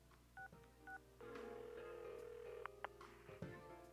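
A phone call is dialed in the video game Persona 4 Arena: two short, clean keypad beeps, then a steady electronic tone with a few brief clicks and blips, set over a faint continuous background hum.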